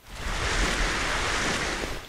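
Water waves in the video game Dead Island: Riptide: a steady wash of surf, broadband and continuous for about two seconds, moderately loud with no speech.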